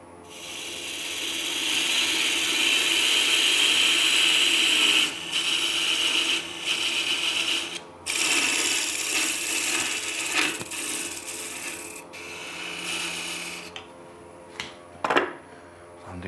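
Wood lathe turning a small alder vase from wet wood, with a continuous hissing, scraping cut of the tool against the spinning workpiece, interrupted by short pauses and a few sharp knocks toward the end.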